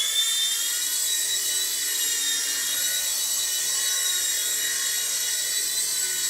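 A small rotor on a World Tech Toys Hornet 2-channel infrared toy RC helicopter whines steadily at a high pitch, a constant buzzing drone close by with little change in speed.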